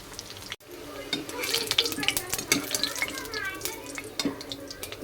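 Tap water runs steadily into a sink while a kadai, an Indian frying pan, is rinsed and scrubbed, with splashing and clattering spikes from the pan close by.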